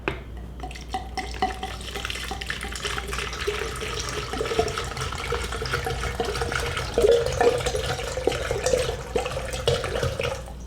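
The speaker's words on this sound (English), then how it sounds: "We're going to pour our water in." Water poured from a tap into a small plastic dollar-store pitcher for mixing film developer, a steady close trickling and splashing that runs for about ten seconds and grows a little louder partway through, with no talking.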